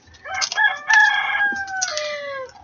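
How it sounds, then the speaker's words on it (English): A rooster crows one long cock-a-doodle-doo, loud and close, with a rising start and a long falling final note. "Hopefully you didn't hear my rooster."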